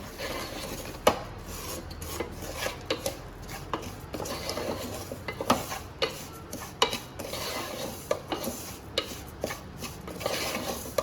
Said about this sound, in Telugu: ఈ గసి రాగి పిండి చక్కెర దీన్ని బాగా మిక్స్ చేసుకొని ఒక 2 మినిట్స్ ఫ్రై చేసుకోవాలి.